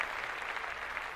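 A brief burst of clapping from a small group, a soft, even patter of hands that sounds somewhat distant and quiet.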